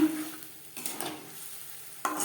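Whole cumin seeds frying in oil in a pan for an okra curry, a quiet sizzle broken by a couple of spatula scrapes and a knock as spices go in, close, no voices.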